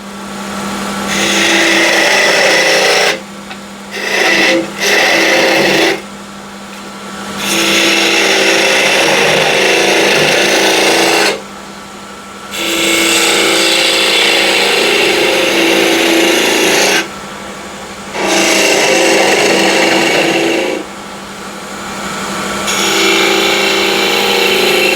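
A woodturning lathe spins a salt shaker blank while a 10 mm spindle gouge cuts it, giving a loud, continuous scraping hiss over a steady motor hum, broken by several brief pauses as the tool lifts off.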